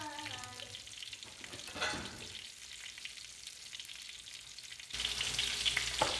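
Gravy and butter stirred in a hot pan, a continuous close sizzle and frying crackle with spoon scrapes, swelling louder and brighter near the end, with no talking.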